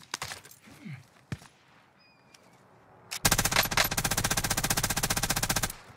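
Rapid sustained automatic gunfire from an SMG in a video game, a long loud burst of evenly spaced shots following a few scattered single shots and quieter game sounds.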